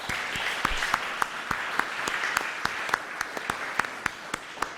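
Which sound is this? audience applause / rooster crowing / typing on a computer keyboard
audience applause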